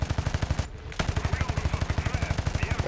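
P-51C Mustang machine guns firing in War Thunder: a rapid, steady stream of loud, close gunshots lasting nearly three seconds, broken by one brief pause before the burst resumes.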